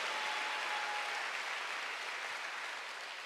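A congregation clapping during a Sunday church service, a steady dense patter of many hands that fades slightly toward the end.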